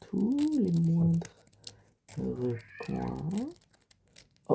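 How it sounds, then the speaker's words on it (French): A cat meows loudly and insistently, drawn-out agitated yowls in two bursts with a short pause between, close by. "je ne sais pas si vous entendez, c'est le chat des propriétaires qui s'énerve"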